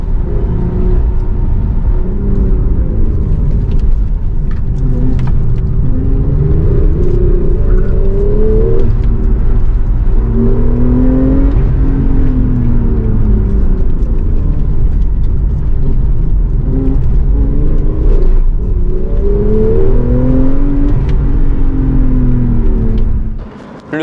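A Porsche Targa 4S engine roars steadily with rising and falling revs as it accelerates, loud and close throughout with no talking.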